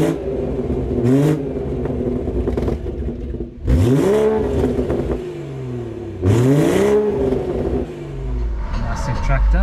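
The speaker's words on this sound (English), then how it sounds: "I'll give you guys some revs before we take it for a drive, so you can see essentially what a decatted M Performance exhaust sounds like." A decatted BMW M140i with an M Performance exhaust revs while parked, with three sharp climbing blips that each fall back to a rumbling idle, loud and close, and a voice over the idle.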